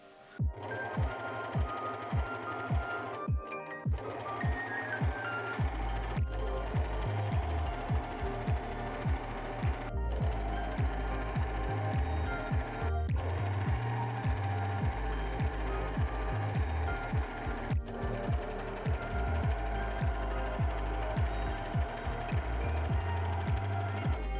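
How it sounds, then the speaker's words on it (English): An overlocker serges the edges of fabric pieces for a garment, making a rapid, fairly quiet mechanical chatter that runs in long stretches broken by a few brief stops. "So I overlocked all the edges that won't be covered"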